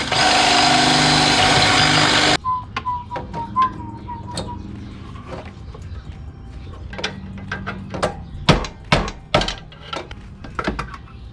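A flathead screwdriver is struck with a stand-in hammer to free a motor mount on an Acura TSX with a K24 engine. A loud power-tool burst opens, then sharp, irregular metallic taps and knocks ring out close by.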